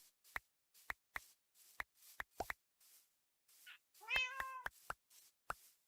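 Cats meowing in the Minecraft video game, one harmonic meow rising over a run of sharp ticking and clicking game sounds, with no talk.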